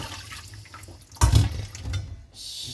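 Water drains from a bowl after washing malunggay leaves in a kitchen, a brief rushing pour that swells suddenly midway and then trails off into lighter trickling and running water, close and moderately loud, with no talking.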